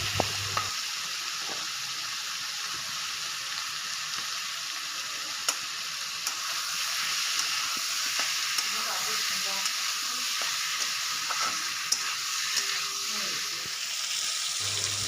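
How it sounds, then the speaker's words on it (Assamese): Turmeric powder frying in oil in a pan for a chicken curry gives a steady, even hiss of sizzling with faint stirring scrapes, close and moderately loud throughout, no talking over it. "এতিয়া ইয়াতে দিম মই হালধি গুড়িখিনি দি অকণমান ভাজিম।"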